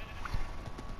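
A horse in Minecraft snorts and shifts briefly, with a soft hoof clop, faint and close, in a quiet game setting.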